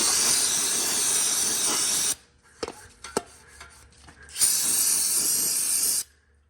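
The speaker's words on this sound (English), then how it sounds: "Got some parts cleaner here." Aerosol parts cleaner sprayed onto a 2.0T engine in two long, steady hissing bursts, close and loud, separated by a few seconds of small clicks and handling noises.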